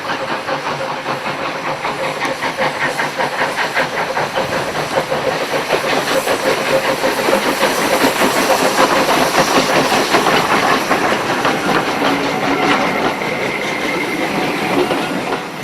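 A pair of former Southern steam locomotives, one Brighton and one Ashford, pass with loud rhythmic chuffing and hiss that swell to a peak and then ease off, heard alone.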